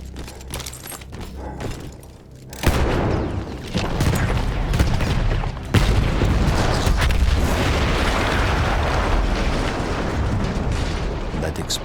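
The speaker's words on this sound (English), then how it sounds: "That explosion was one of the sweetest sights of the war for me." An artillery gun explosion in the video game Battlefield 1 sets off a heavy boom, followed by sustained roaring, rumbling blast noise with further thuds, loud and dense throughout.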